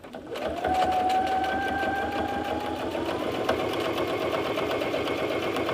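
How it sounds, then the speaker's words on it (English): A sewing machine back stitching a seam on a boxy bag whirs steadily and continuously up close, with a faint rising motor whine near the start. "I'm going to do a back stitch over it just because I want it to really hold in place."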